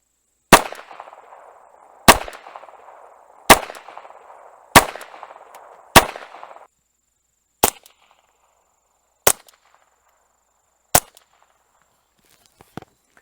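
Winchester Super Suppressed rounds fired through an Anechoic AnexchoX22 silencer, eight sharp suppressed shots spaced about one to two seconds apart, the early ones trailed by a brief ringing decay, later ones drier and isolated.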